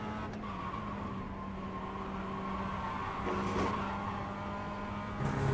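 A race car in the iRacing sim game laps during qualifying, its engine a steady, moderately quiet hum with tonal whine and faint tire squeal, rising slightly toward the end.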